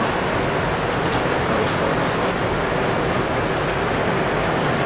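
A Lionel model train runs along its track, producing a continuous, even rumble of rolling wheels that stays steady and moderately loud throughout with no pauses.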